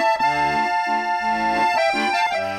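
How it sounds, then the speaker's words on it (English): Reedy accordion notes play a short, changing run of sustained chords, loud and close, with no voices. "have you seen someone play an accordion before?"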